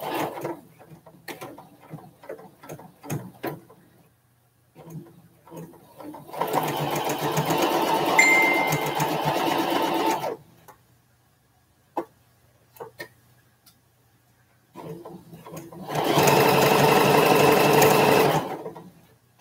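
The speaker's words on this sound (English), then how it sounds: "So I'm going to sew the long edge here." A sewing machine stitches the long edge of fabric in two sustained runs of rapid mechanical clatter, with quieter stretches of handling noise and brief talking between them.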